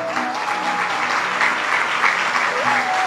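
Audience clapping steadily and loudly at the close of the first day of a Bhaktmaal religious katha gathering in Torwa, Bilaspur, dense sustained applause filling the space throughout.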